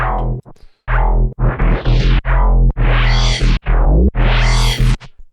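Heavily distorted synth bass in a neurofunk track, stacked with crushing effects, playing loud, gritty notes with sweeping growls in short choppy phrases.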